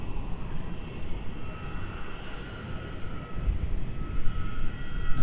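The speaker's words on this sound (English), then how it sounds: "The Jetstar flight 777 in from Adelaide, about to land on" A Jetstar jet airliner arriving from Adelaide descends to land on runway 27 at Melbourne Airport, its engine roar steady and distant at first, then swelling louder toward the end.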